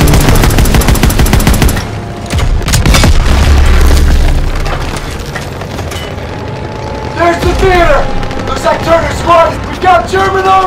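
Panzer tank cannon fire in Call of Duty WWII booms through a chaotic battle, heavy blasts and rolling rumble mixed with rapid gunfire, while soldiers shout over the din and sharp whizzing effects streak through near the end.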